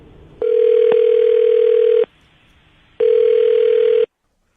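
A telephone line tone sounds loud and clear in two long steady bursts separated by a short gap, the signal heard after dialing a phone number.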